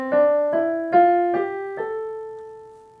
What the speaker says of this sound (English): So the natural minor sounds like this.